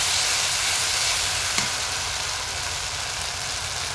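Onions fry with red mustard paste in a pan, giving a steady, dense close sizzle with one small clink partway through and no talking.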